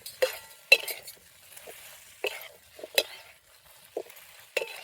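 Gobi Manchurian cabbage pieces tossed in a sauce masala in a pan, a spoon scraping and clinking against the metal in a series of separate strokes over a soft sizzle, no talking.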